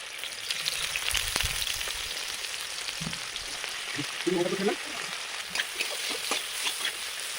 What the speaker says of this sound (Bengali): সামান্য তেল দিলাম কড়াতে পরিমাণ মতন। পেঁয়াজ কড়াই দিয়ে দিলাম।